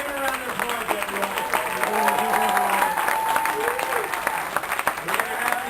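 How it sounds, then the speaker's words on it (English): A round of applause from the audience at a film Q&A session, sustained crowd clapping with voices talking and calling out over it throughout. "Let's give a round of applause, everyone."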